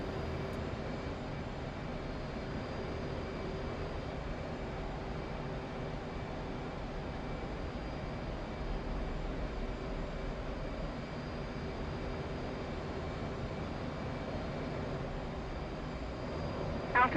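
F/A-18 jet in the DCS flight simulator drones with a steady, even engine roar throughout, moderately quiet and unbroken, with no voices.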